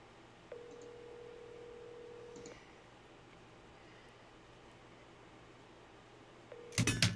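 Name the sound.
telephone calling someone back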